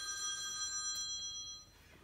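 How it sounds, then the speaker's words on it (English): A telephone rings with a bright electronic trill, fairly faint and slightly distant, with no one speaking, then fades out near the end. "Another telemarketer is calling, that's for sure."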